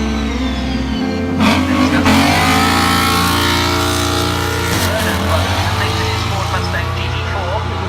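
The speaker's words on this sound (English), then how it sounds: "entertaining us with some smoky twitches of the GT4 Mustang" Ford Mustang GT4 race car at the Goodwood Festival of Speed 2017, pulling smoky twitches: a loud, close engine revving hard and rising and falling in pitch, with tyre squeal and a voice talking over it.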